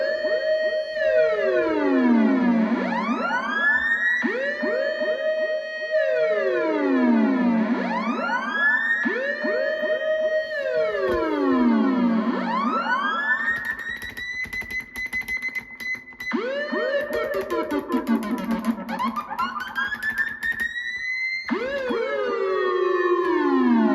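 A loud electronic dub siren in up-down mode swoops repeatedly up and down in fast cycles, each sweep sliding high then falling, with crackly echoing tails layered over one another.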